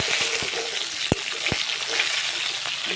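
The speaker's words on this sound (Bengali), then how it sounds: "আমি হালকা ভেজেছি বেশি কিন্তু ভাজিয়ে নিয়ে নিই মাছগুলো" Pieces of silver carp fish frying in hot oil, a steady crackling sizzle running throughout, broken by a few sharp knocks and clatters of a utensil against the pan.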